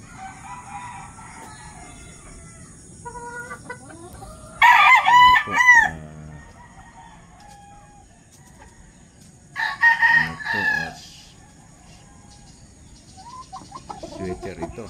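Sweater gamefowl roosters in a simple breeding pen crow twice, loud and near, with soft clucking and low farmyard murmur filling the quiet stretches between calls.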